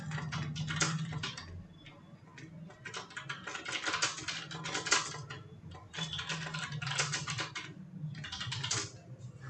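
Someone types a school's full name into a table cell in Microsoft Word 2007 on a computer keyboard, producing steady bursts of close, rapid key clicks with brief pauses between words over a low background hum.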